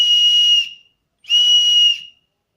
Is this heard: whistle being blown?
yes